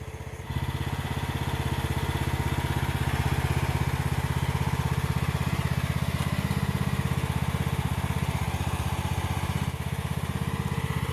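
Engine of an AGT MX15R Chinese mini excavator runs at a steady, close throbbing idle while the bucket digs and curls full of dirt, starting abruptly after a brief quiet moment and holding constant throughout; no talking.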